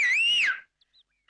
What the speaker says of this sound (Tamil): விசில் அடிக்கணும்னா